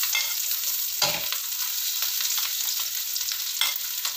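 Shallots and garlic frying in hot oil in a pan for spicy taro and anchovy sambal goreng, a loud continuous sizzle with stirring scrapes throughout and no talking.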